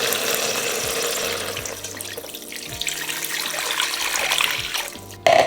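Beef broth poured into a pot of melted butter with rosemary and thyme, a steady liquid splashing and trickling that runs for several seconds with a brief louder clatter at the end.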